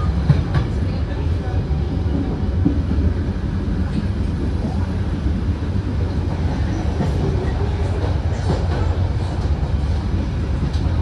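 KA Brantas economy train pulling out of Kediri station, a steady loud rumble of wheels and carriage noise heard from inside, continuous and dense with faint voices mixed in.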